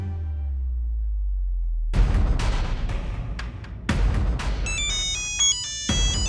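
A phone rings with an incoming call, a steady ringtone that starts abruptly after a low hum and repeats in loud electronic bursts with sharp accents, close and dominating, with no speech over it.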